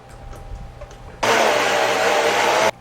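A blender whirs loudly and steadily for about a second and a half, blending meatball filling into a hot veal and tomato slurry, then cuts off abruptly after a quieter stretch of room noise.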